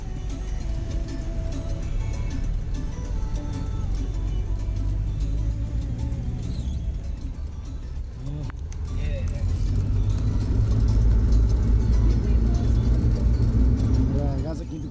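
Traffic jam on a road in Timor, a steady low rumble of idling and creeping cars close by, with people talking over it throughout.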